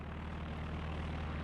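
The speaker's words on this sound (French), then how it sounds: "c'est un avion de reco" Reconnaissance plane droning overhead in the World War II strategy game Company of Heroes 2 at Dunkirk, a steady propeller-engine hum that stays loud and even throughout with no talking.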